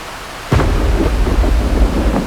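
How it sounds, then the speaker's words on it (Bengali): Heavy rain with thunder as a story sound effect: a sudden loud rumbling crash lands after half a second and rolls into a dense, continuous roar of rain with no voices. "মুসলধারে বৃষ্টি পড়ছে ইট পাথরের শহর জুড়ে"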